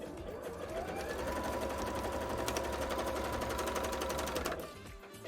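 Sewing machine stitching orange thread on a bra, a steady fast mechanical chatter running loud and continuous for several seconds before stopping near the end.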